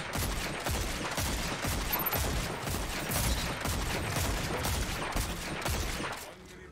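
Rapid bursts of automatic gunfire in a shooter video game, fired at an enemy, come as dense repeated loud cracks with a steady rhythm, continuing for several seconds before easing off near the end.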